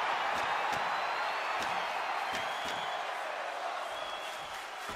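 Crowd cheering from the WWE 2K23 video game, a steady wash of arena noise with a few scattered sharp claps or whoops across it.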